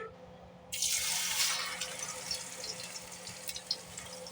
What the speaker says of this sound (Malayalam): അപ്പൊ നമ്മുടെ എണ്ണ ചൂടായി വന്നിട്ടുണ്ട്. നമ്മള് നേരത്തെ മിക്സ് ചെയ്ത് വെച്ച സാധനം ഇതിലോട്ട് ഇട്ടുകൊടുക്കാം.